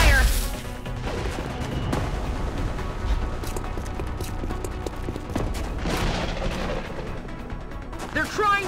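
Gunfire in the turn-based strategy game X-Com Enemy Unknown, with bursts of shots and impacts bracketing a stretch of rumbling combat noise, loud near the start and at the end, under intermittent voices.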